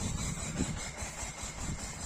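A Kentavr-240 tractor with a mulcher attached runs on a hot day, its engine giving a steady, close mid-pitched drone with a faint squeal and no let-up.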